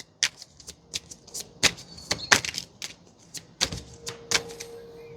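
Oracle cards are shuffled by hand in a quiet room, giving a quick irregular run of crisp, sharp snaps and flicks close up.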